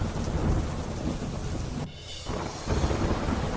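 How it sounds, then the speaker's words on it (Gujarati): Heavy rain pours steadily in Amreli as thunder rumbles and strong wind gusts, a loud, dense wash of sound that briefly drops away before surging back. "ભારે પવન સાથે અનેક વિસ્તારોમાં ધોધમાર વરસાદ પડ્યો"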